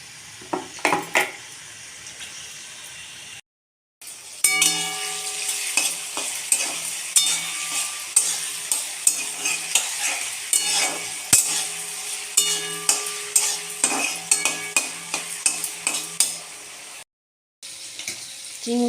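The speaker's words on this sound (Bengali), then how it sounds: "এবার একটু কড়াইতে তেল নিয়ে নিয়েছি, এবার ভেজে নেব" Turmeric-coated shrimp fry in oil in a wok for Bengali kochu chingri, a bright sizzle punctuated by rhythmic clanking stirs of a spatula against the pan, with brief pauses.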